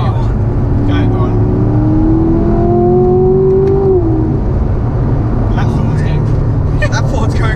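A Corvette C7 Grand Sport Collectors Edition engine drones loudly at speed on a track, its pitch rising steadily under acceleration and then dropping as the driver shifts, heard from inside the car.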